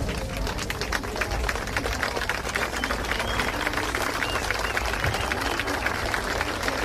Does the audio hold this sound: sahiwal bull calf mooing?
no